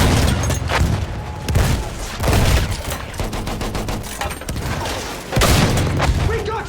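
Heavy artillery fire and explosions on a World War I battlefield in Battlefield 1, with repeated loud booming blasts and rattling gunfire in dense bursts, close and overwhelming, with voices shouting underneath.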